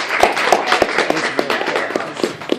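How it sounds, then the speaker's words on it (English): Audience applause at a live talk event, with sharp hand claps repeating at a fairly steady rhythm over a dense wash of clapping, moderately loud and without speech. "Give her a round of applause, guys."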